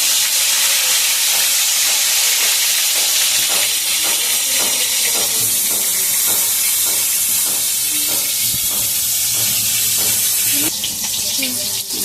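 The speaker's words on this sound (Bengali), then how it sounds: "আর বেগুনটাকে একটা করে তেলে ছেড়ে দিচ্ছি।" Eggplant slices fry in hot oil, giving a loud, steady sizzle with repeated crackling pulses as each piece hits the pan, filling the whole stretch with a harsher surge near the end.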